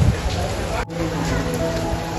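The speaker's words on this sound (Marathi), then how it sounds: "प्रचंड पाऊस लागून गेला." Heavy monsoon rain falls at Raigad fort on a misty early morning, a steady hiss with dense patter, heard close under a voice speaking throughout.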